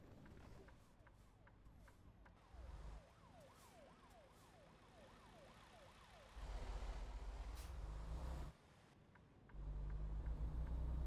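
Police siren in the American Truck Simulator 2 video game, a wailing rising-and-falling tone sweeping repeatedly at moderate distance over a low truck engine drone that surges in bursts.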